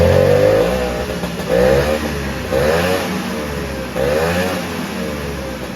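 The engine of a 1972 Ski-Doo snowmobile, just after a carburetor adjustment, revs up loudly and close by in repeated throttle blips, its buzzing two-stroke tone rising and falling several times.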